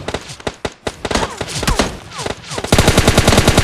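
Gunfire in the mobile battle royale game PUBG Mobile Lite: scattered single shots and short bursts that build into a rapid, dense automatic volley near the end, loud and close.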